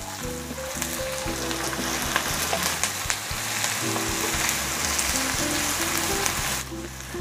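Garlic and thinly sliced shallots sizzle steadily in a hot oiled pan for tempe orek, a dense continuous crackle with occasional stirring scrapes, close and fairly loud with no talking.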